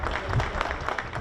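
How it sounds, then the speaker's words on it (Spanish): Applause at a welcoming event in Uruguay as tourists return to the country, with dense continuous clapping, moderately loud and close throughout. "Aplausos"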